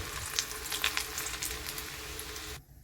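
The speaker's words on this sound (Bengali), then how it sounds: "কুচনো রসুনগুলো আমি এতে ভালো করে ভেজে নেব।" Chopped garlic sizzling and crackling in hot oil in a wok, a steady close frying hiss with small pops, stopping abruptly near the end.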